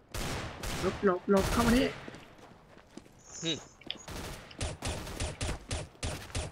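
Gunfire in a first-person shooter match: bursts of shots and footsteps mixed with excited voices, loud and close, with sharp repeated cracks toward the end.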